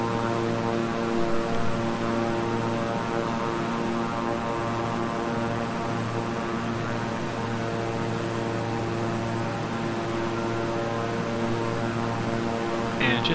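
Steady twin-engine propeller drone of a King Air 350i in Microsoft Flight Simulator, flying a Fort Wayne to Chicago route, with a strong tonal hum holding evenly throughout and no speech.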